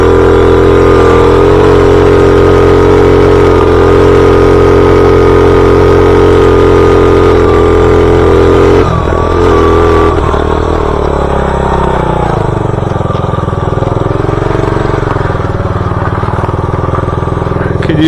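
Motorcycle engine roaring loud and close, held at a steady high rev through a wheelie in second gear, then easing off and dropping toward a lower drone.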